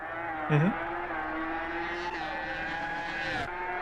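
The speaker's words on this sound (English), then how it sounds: "here's the Renault in action" A Renault race car in a racing sim game holds a steady, high-revving engine whine, with a brief squeal and pitch dip early on, then a smooth climbing drone to the end.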